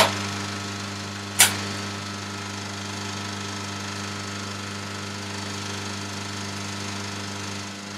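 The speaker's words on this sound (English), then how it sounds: "The noise you can hear are the two very quiet rectifiers" Two quiet rectifiers hum steadily in a cinema projection room, a low constant drone with faint tonal bands, broken once by a brief sharp click.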